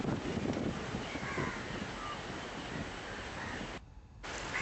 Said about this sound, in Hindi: तेज हवाएं चल रही है